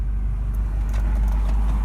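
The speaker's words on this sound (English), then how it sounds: "My car is on. My car's running already," A parked car's engine idles steadily from inside the cabin, a constant low rumble with no revving.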